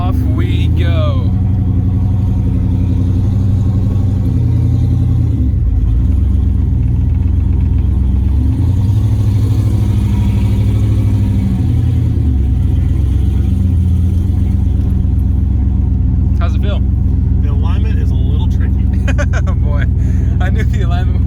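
A turbocharged WS6 Pontiac Trans Am pulls away on a drive, its engine rumbling loudly and steadily as the revs swell and ease, with brief talk from people in the car near the end.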